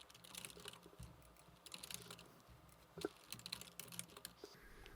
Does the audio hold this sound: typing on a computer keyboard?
yes